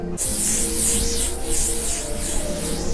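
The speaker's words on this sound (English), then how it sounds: "you just spray it over your face, okay?" Makeup setting spray hisses from a bottle over a face in one continuous close mist that starts abruptly and holds steady for a few seconds.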